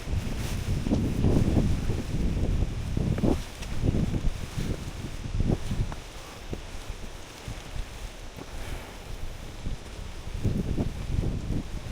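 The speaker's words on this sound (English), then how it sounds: "Wow, the breeze," Steady wind gusts roar against the microphone on a hiking trail to the Gocta waterfall in Peru, rising and falling in uneven buffets with no talking.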